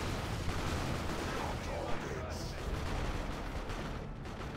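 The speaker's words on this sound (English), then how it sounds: "Now in melee with Plague Marines, causing them to explode." Plague Marines bursting apart in melee in Dawn of War II: Retribution, with a dense wash of explosions and gunfire-like crackle running continuously at moderate volume, with no clear separate blasts.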